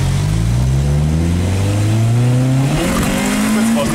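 A race car launches with a clutch kick, its engine revving hard and climbing steeply through rising pitch sweeps, loud and close, with a brief shift break near the end and no voices.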